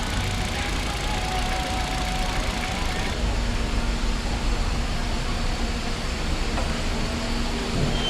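A 2015 Kia Rio car engine runs steadily with a smooth, even idle, a continuous mid-level hum with faint background noise and no talking.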